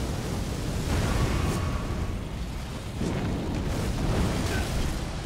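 A roaring, eruptive whoosh of an enemy fire attack in Elden Ring, dense and sustained with surging waves of blast-like rumble, loud throughout.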